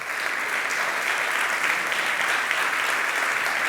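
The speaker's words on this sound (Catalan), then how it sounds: "Us demanaria un fort aplaudiment per ells." At the closing gala of a brain-themed film festival, the audience gives strong, continuous applause, a dense and even wash of many hands clapping that fills the hall for nearly four seconds.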